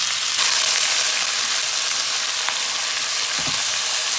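Chopped chicken pieces hit a hot wok of onion, garlic and aromatics, giving a loud, steady close-up sizzle with faint stirring clicks and no voices.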